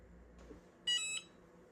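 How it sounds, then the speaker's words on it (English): A single electronic beep, loud and clear, lasting about a third of a second against a quiet background. "so you heard that beep"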